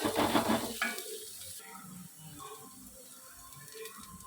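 Green chillies and garlic sauté in a pan, a sizzle and a scrape of stirring that are strongest at first and then fade to quieter, intermittent frying sounds. No one speaks.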